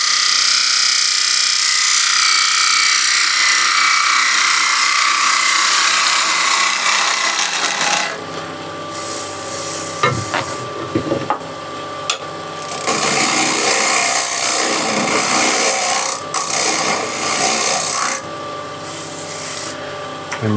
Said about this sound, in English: again I can use the round shank spindle gouge here